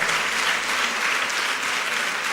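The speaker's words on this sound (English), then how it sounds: "a big round of applause for yourselves" A conference audience at the Absa Inspire Me event gives a sustained round of applause, a dense, even wash of many hands clapping with no pause.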